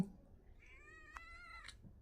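A house cat said to have swollen tonsils gives a clear, fairly close meow with a rising then falling tone, followed by a shorter second call, against a quiet background.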